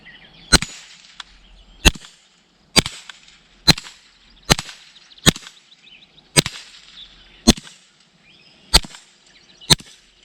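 Suppressed .22 rounds fired through a YHM Phantom 22 suppressor at steel targets, nine sharp, evenly spaced cracks each followed by a ringing metallic ping, loud and close with quiet gaps between shots and no talking.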